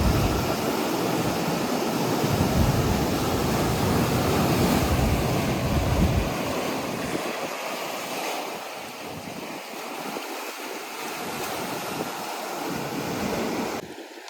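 Sea waves wash onto a rocky shore at Hedvi beach on the Konkan coast, a continuous loud surf roar with strong wind buffeting the microphone, easing slightly partway through.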